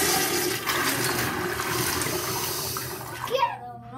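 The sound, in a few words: toilet flushing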